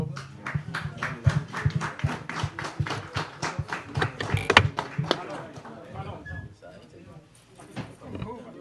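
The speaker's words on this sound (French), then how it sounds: "Je vous invite à applaudir ce acte." Scattered applause from an audience at a Haitian ministry of education ceremony, individual claps spaced and uneven rather than a dense roar, tapering off toward the end with faint background voices.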